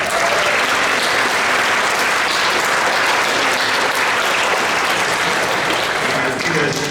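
Audience at a high school graduation ceremony applauding, a dense, loud, sustained wash of clapping from a large crowd that holds steady throughout.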